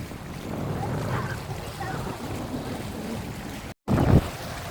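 Sea waves wash and break against a rocky shore, a steady rushing surge with wind buffeting the microphone and a heavier crash near the end, with no talk.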